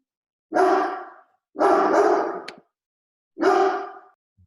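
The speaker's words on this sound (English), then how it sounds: "there's my dog" A dog barks nearby in a home, three loud, drawn-out barks spaced about a second apart with silence between them.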